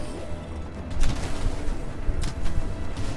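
Two sharp, booming bursts from an explosion in the action RPG Grim Dawn, the first about a second in and the second near the two-second mark, over steady game ambience.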